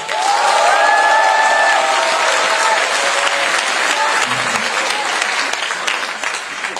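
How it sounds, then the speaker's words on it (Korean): A large crowd applauds loudly and steadily at a Chungnam joint party campaign rally, with the clapping sustained throughout and faint cheering mixed in. "오늘 나와 계신 모든 분들에게 힘차게 박수를 좀 부탁드리겠습니다"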